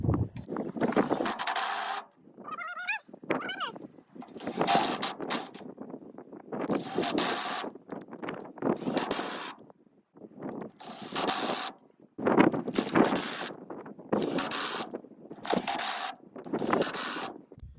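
Lug nuts on a set of 2-inch wheel spacers are tightened in a crisscross pattern, giving repeated bursts of spinning, ratcheting mechanical noise separated by short pauses, close and fairly loud, with no talking.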